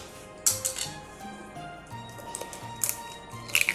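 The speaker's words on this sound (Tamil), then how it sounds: "நான் வந்து 2 முட்டை உடச்சி ஊற்றிக்கிறேன்." Eggs tapped and cracked into a clean mixie jar for cake batter, a few sharp clinks and knocks of shell against glass amid soft kitchen clatter, close and moderately quiet.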